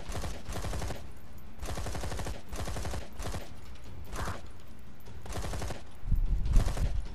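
Bursts of automatic gunfire in the video game Zombi, several rattling volleys of rapid shots separated by short gaps, loud and close, with a heavier thump near the end.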